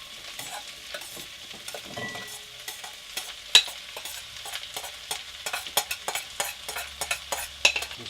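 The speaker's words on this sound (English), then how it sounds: "So then we'll put in our split peas." Split peas drop into a sizzling beef curry pot on a tiny Salamander cook stove, with soft frying hiss and scattered stirring clicks and taps, close and quiet.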